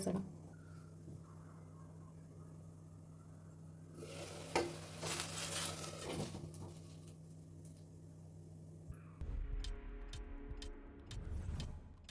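Soft sizzling of tomato masala frying in oil in a pan, with stirring and scraping, a louder burst of crackle midway and light ticking clinks near the end.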